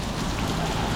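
Rain pours down in a steady, dense wash of drops on surfaces outdoors, loud and unbroken for a brief moment with no voices.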